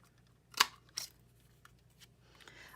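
Scissors snip through a paper banner while a witch card is made: one sharp, close cut, then a second softer snip a moment later, with faint rustling in an otherwise quiet room.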